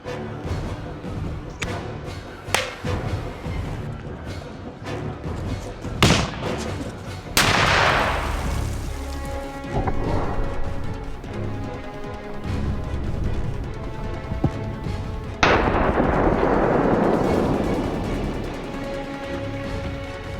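A few sharp bangs, then two big booming blasts from a grenade exploding under a bucket, with long crackling, rumbling tails, loud and fairly close, with no talk.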